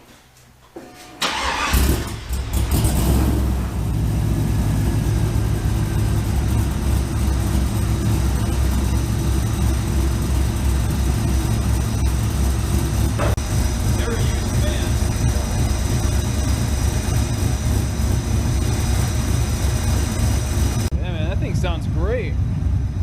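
A GMC truck with a true dual X-pipe exhaust cranks over and starts, then settles into a steady, loud, close rumbling idle that runs on without a break; a voice speaks briefly near the end.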